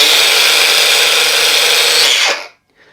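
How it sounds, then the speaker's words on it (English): A Bosch GWX 18V brushless cordless X-Lock angle grinder runs at its max speed setting with a steady high whine, loud and close, then spins down and cuts off near the end. "this, being a brushless motor, is the quietest angle grinder I've ever used"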